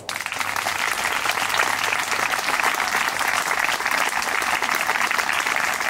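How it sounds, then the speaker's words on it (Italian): Guests applaud at a wedding ceremony in Miane right after the exchange of rings: a dense, continuous burst of clapping from a sizable crowd, loud and sustained without talk. "Applauso."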